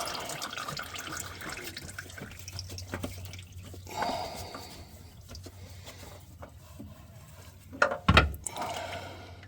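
Motor oil drips from a Saturn car during a driveway oil change, falling as faint, irregular drips and soft thunks, with one louder splatter near the end.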